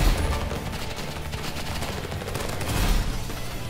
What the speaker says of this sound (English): I missed my Uzi shots!